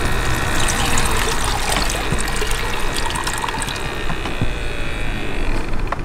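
Plain water streams and drips back from a deep water culture hydroponic bucket as it is lifted in a DIY solar-powered setup, a continuous close splashing trickle with no talking.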